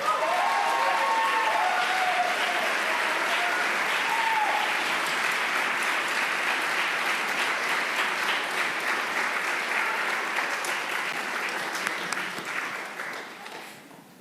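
Sustained audience applause at a university business school awards ceremony, a dense clapping crowd that holds steady for many seconds, close and loud, then tapers off near the end.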